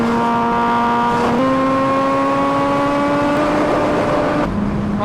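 An Aprilia sport motorcycle, likely an RSV4, revving loud and close with a steady high engine note that climbs in pitch and shifts as the throttle rises, running alone without talk.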